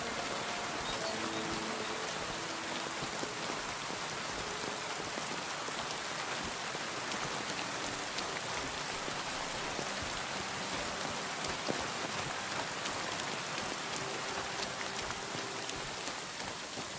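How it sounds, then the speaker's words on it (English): Rain falls steadily in the medieval world of Kingdom Come: Deliverance, a dense continuous hiss of drops spread evenly around the listener with no voices. "It's when it's raining."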